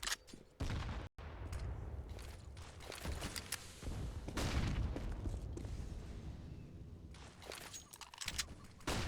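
Grenades exploding in a Counter-Strike match on the Inferno map, a dense run of booms and gunfire-like blasts that stays loud and busy throughout with no talk.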